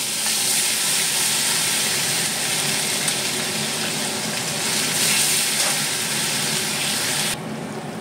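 Onion paste frying in ghee with caramelised sugar gives a loud, close, continuous sizzle with bubbling crackle, which eases slightly near the end.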